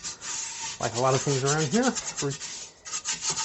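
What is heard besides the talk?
scrubbing a cast iron pot with an old toilet brush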